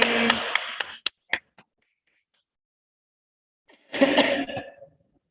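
A few sharp coughs and short bursts near the start, a pause of silence, then a longer breathy burst like a cough or throat clearing.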